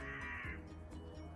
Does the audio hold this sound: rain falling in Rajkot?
no